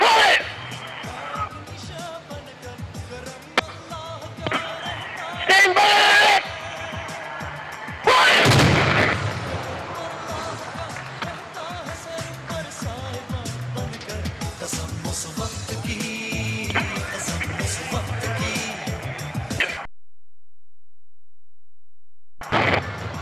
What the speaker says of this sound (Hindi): इस वक्त 26 फील्ड रेजिमेंट आर्टिलरी का कामयाब मुजाहिरा।